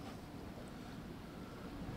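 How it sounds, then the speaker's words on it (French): Strong, steady wind gusts at 20 to 45 km/h buffet the microphone during a storm, a continuous roaring rush of broadband noise with no pauses. "3 jours à peu près de gros vent, bah gros vent"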